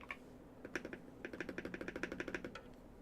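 Typing on a Hall Effect mechanical keyboard in a Venom build, a quick run of crisp keystrokes in steady rhythm, close and fairly quiet, with no talk over it.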